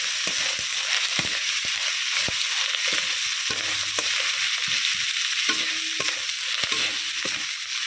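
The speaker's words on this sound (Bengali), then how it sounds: "আদা রসুনটাও খুব ভালো করে কষিয়ে নেব" Ginger garlic paste fries in a pan with a constant hiss while a spatula scrapes and knocks against the metal at irregular intervals, close and clear.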